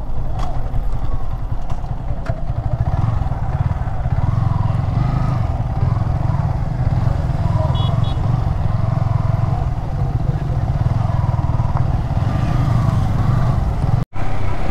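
Several Gixxer SF motorcycles running together, a loud continuous engine rumble that stays steady from start to finish, with brief clatter on top and a short break near the end.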